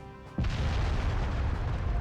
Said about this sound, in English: That is an interesting explosion to take out a wall, but not hurt them at all